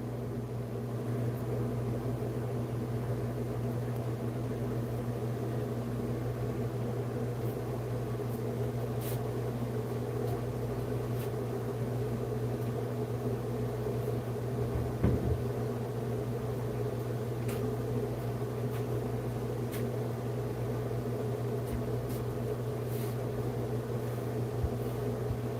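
A washing machine runs steadily in an RV, giving a continuous low hum with faint mechanical whir and a few small clicks throughout.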